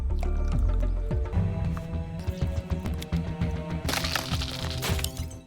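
Thick glass cracking as chemicals eat into it, with sharp crackling bursts layered over dense, steady music throughout.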